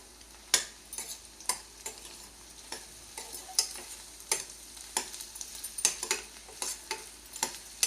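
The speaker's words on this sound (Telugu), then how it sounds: "ఇప్పుడు దాంట్లోకి ఇందాక కోసుకున్న మామిడికాయ ముక్కలు వేసుకుంటున్నానండి. ఒకసారి కలుపుకొని" Raw mango pieces are stirred into a pan of fried onions for an Andhra-style mango and sweet potato curry, quiet sizzling under repeated scraping strokes of a spoon against the pan at a steady rhythm.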